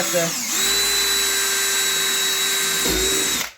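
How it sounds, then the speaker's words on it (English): Power drill whining steadily as it drives a screw into a wall stud during a bathtub removal, a loud continuous motor tone for about three seconds that winds down at the end, with faint talk beneath. "We're going to get a screw in this corner."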